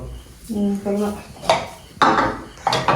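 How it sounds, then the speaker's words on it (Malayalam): Hollow knocks and clatters as wooden bowls are picked up and set down, several distinct clunks close to the listener. "പാത്രം നോക്ക് തടിയിലുള്ള പാത്രം"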